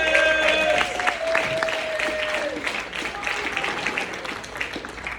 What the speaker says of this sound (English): Big round of applause for my good friend, Raul Perez